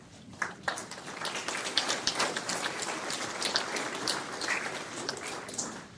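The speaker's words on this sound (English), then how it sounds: "give yourself a big round of applause for that." A crowd at a guest speaker event gives a big round of applause, a dense continuous patter of many hands clapping, moderately distant and sustained throughout with no talk over it.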